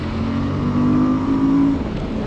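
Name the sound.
Suzuki V-Strom 1050 XT motorcycle engine accelerating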